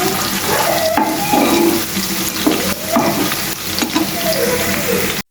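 Onions frying in a pan while greens wait to be added, a steady close sizzle with clinks and scraping of stirring throughout, a brief voice behind it, cutting off sharply at the end.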